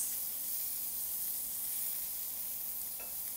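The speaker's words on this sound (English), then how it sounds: "we're just going to now add the onions" Onions added to a pan of cabbage in hot oil, frying with a loud, steady sizzling hiss close by, unbroken by talk.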